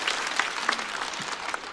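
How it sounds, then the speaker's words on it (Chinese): Applause from a stand-up comedy audience for a comedian, a dense, steady wash of many hands clapping at once that fills the whole stretch without letting up. "来，再次掌声送给杨欣"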